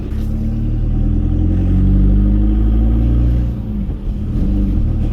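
A turbocharged diesel Peugeot 206 engine drones low and steady while driving, the revs rising and easing off, then dipping briefly before climbing again, heard from inside the car.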